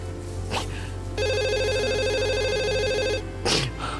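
Telephone ringback tone during an outgoing call, one steady electronic ring lasting about two seconds, clear and close over a background hum.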